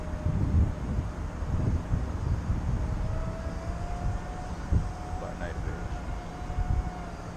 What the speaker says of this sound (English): That's the wind pushing it